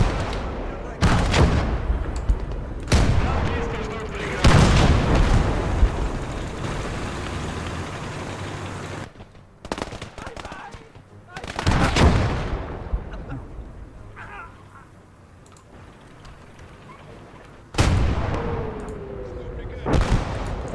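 Mortar blasts and gunfire in a war video game battle on a southern front, heavy booming impacts and bursts of shots recurring across the clip, some loud and close, others more distant, with a voice speaking at times.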